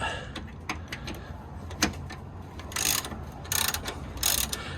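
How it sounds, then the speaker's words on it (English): A ratchet fitted with a 14mm socket loosens a bolt on a Honda Civic Type R FN2 during an anti-roll bar bush change, giving quick clicking bursts of pawl ticks with short pauses between strokes, close and clear. "I've got a 14mm socket on here just to loosen that one off"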